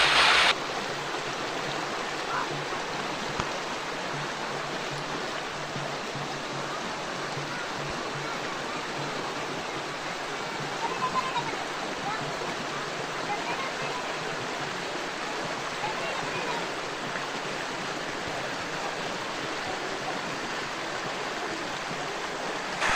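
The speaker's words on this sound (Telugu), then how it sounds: "ఈ వాటర్ ఫాల్స్ కూడా చాలా బాగున్నాయి" A steady rushing roar of a waterfall at Kotipally Dam, Vikarabad, continues evenly throughout, broad and unbroken, with no voices.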